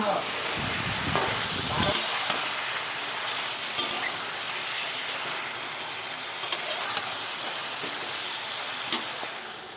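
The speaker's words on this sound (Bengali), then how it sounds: "দেখো বেগুনগুলো এখন তেলে দেওয়া হবে" Eggplant pieces fry in oil with potatoes for a boal fish curry, a steady broad sizzle at moderate level with a few louder crackles and stirring clatters scattered through it.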